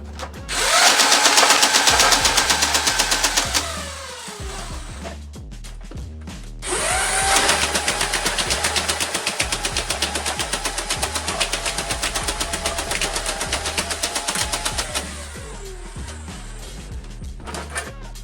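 A modified Nerf Vulcan toy blaster fires darts in two long, loud bursts of rapid mechanical rattling and whirring, with a short pause between them and a dying whir after each.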